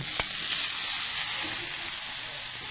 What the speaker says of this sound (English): I'll start adding the seafood because I want it to be just done when we serve it